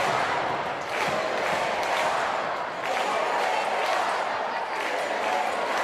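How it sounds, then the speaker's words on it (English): Indoor soccer crowd at a Baltimore Blast versus Utica City FC match roaring wildly and without a break, a broad swelling din that fills the arena. "And this crowd going bananas."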